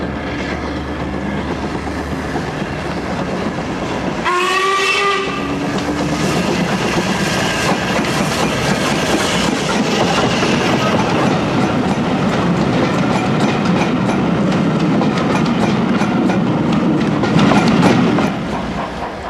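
Steam train running on remodelled lines around Old Oak and Willesden, a steady rolling rumble with wheel clatter and a brief whistle-like tone near the start, sustained and fairly loud throughout.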